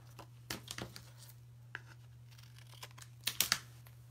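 Paper layer trimmed during card making, a few short crisp cutting and tearing bursts scattered over a steady low hum, with a clustered louder snip near the end, close and fairly quiet.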